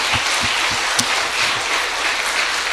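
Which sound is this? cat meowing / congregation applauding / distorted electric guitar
congregation applauding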